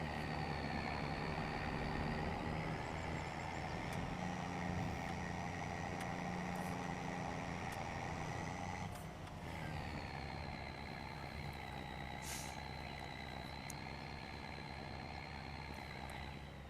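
A truck engine in Farming Simulator 25 running steadily at close range, a continuous droning hum with a slight shift in tone midway and no breaks.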